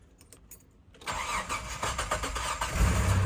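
An old, rough-running car engine cranks and catches after about a second of quiet, then settles into a loud, uneven idle around 600 RPM, swelling slightly at the end.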